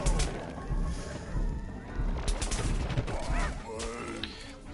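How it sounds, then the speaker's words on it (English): Gunfire in the video game Plants vs. Zombies: Garden Warfare 2, a dense and steady stream of game combat noise with rapid shots and honking effects, loud throughout. "I can't fire my gun fast."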